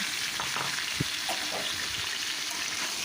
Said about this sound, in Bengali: কড়াইতে যে অবশিষ্ট তেল ছিল তাতে আমি দিয়ে দিচ্ছি কুমড়োটাকে